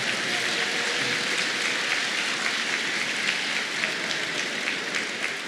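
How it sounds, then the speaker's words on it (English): A high school championship celebration crowd applauds in a steady, hissing wash of many hands that holds evenly for over five seconds, with no pauses. "Give yourselves a round of applause"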